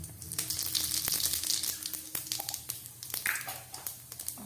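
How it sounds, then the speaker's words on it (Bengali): Cumin and radhuni seeds crackle and sizzle in hot oil in a Bengali home kitchen, a steady close frying hiss broken by sharp pops and spits, with no talking. "এই তেলের মধ্যে আমি দিয়ে দিচ্ছি একটু জিরে ফোড়ন, সাদা জিরে ফোড়ন দিলাম, আর দিয়ে দিচ্ছি একটু রাঁধুনি ফোড়ন"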